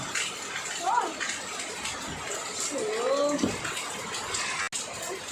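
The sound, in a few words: heavy rain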